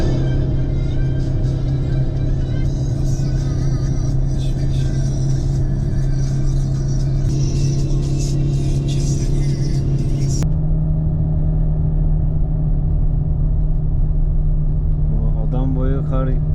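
A car drives along a snow-buried mountain road in Iran's Kurdish highlands where an avalanche has fallen, its steady close engine rumble and road noise running throughout, with voices talking over it and a gear or speed change partway.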